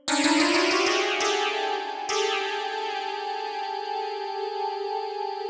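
A dissonant cluster chord is struck, then restruck twice on shifting notes, each sustaining with a tense, beating drone.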